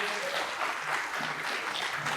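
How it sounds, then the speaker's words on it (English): An audience applauds guests at a South Carolina democracy history event, with dense steady clapping throughout and some faint voices underneath. "Let's give our guests a hand clap."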